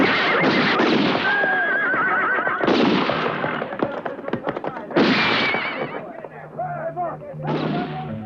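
Horses neigh and whinny repeatedly in a spaghetti western chase scene, with hooves clattering and shouting riders mixed in throughout, loud and busy, with a few sharp bursts that sound like gunfire.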